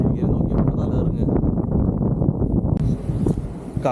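Wind buffets the microphone at a hilltop viewpoint in Attappadi, a steady low roaring rush that fills the whole stretch without letup, with no clear gusts standing out.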